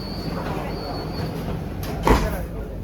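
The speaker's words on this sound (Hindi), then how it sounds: "हाँ, ये लोकल मेट्रो है ये।" Interior of a Meerut local metro train running, a steady broadband rumble with a brief louder clunk near the end, a high whine fading in and out.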